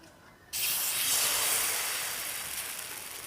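A ladle of patishapta batter hits a hot, lightly oiled wok and sets off a sudden loud, steady sizzling hiss that carries on evenly and fades only slightly.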